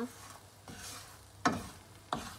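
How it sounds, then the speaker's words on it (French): Almonds being stirred in cooking sugar for praline, with a low bubbling sizzle broken by two sharp scraping strokes of the spoon in the pan, close and fairly quiet. "Voilà, la cuisson commence."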